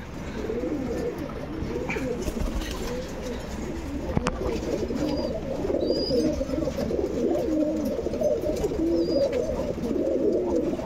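Flock of old line pigeons kept for sale in Bangalore coo continuously, with overlapping soft, rolling calls close by at moderate level and a faint murmur of voices in the background.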